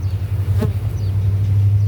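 Honey bees buzz steadily at a hive during a split check for a returning queen, a continuous low drone heard close and alone.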